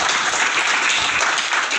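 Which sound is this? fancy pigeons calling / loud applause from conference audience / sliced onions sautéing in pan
loud applause from conference audience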